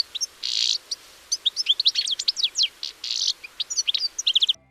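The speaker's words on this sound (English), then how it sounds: "Goldfinch sounds like sweet sweet." A goldfinch sings a quick, bright run of high chirps and twittering trills, close and clear against a quiet background.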